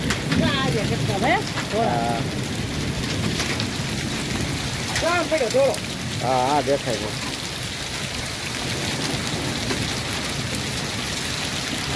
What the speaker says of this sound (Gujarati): હવે બરફના ગાંગડા પડે જો મિત્રો.